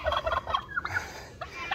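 Turkey toms gobbling, a rapid burst of loud warbling gobbles followed by a second shorter call, close by against a quiet background.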